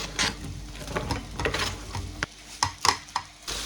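Red onions dropped into a hot frying pan with crushed garlic, giving scattered clatter and stirring noises over a low sizzle, close up with no talking.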